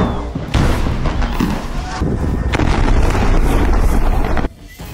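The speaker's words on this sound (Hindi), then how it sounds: "अब इजरायल दक्षिणी गाजा में भी रफा क्रॉसिंग और खान यूनुस पर भयंकर बमबारी कर रहा है।" Heavy bombardment explosions over Rafah crossing and Khan Younis in southern Gaza roll into one continuous loud, booming rumble with wind buffeting, then cut off abruptly near the end.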